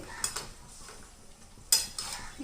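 A spoon stirs homemade tomato ketchup in a pot, with a few sharp metallic clinks and scrapes against the pan, quiet and close, separated by soft pauses.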